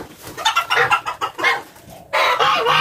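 Broody hens in a coop give a run of close, loud clucks in uneven bursts, ending in a longer, noisier call.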